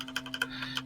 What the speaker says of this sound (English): So you're gonna probably hear a lot of clicking from my keyboard.